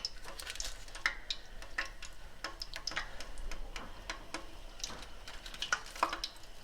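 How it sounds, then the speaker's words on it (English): Italian Bocconotti cookies fry in heated oil, giving a steady low crackle with scattered sharp pops and ticks that come close and fairly quiet, and nobody talks over them. "We're ready to fry our cookies now. Our oil is heated. We're going to gently put the cookies in."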